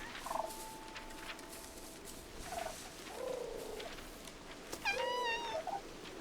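Ink-like paper cats in the Infinity Nikki video game give faint meows and soft purring chirps, spaced out over a low background hum.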